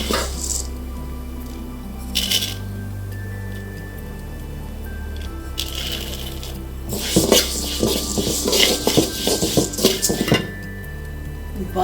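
Flattened rice (aval) being dry-roasted for aval payasam and stirred in a pan, giving scattered clinks and scrapes of a spoon against metal that grow busier and more rapid in the second half, with a steady low hum underneath.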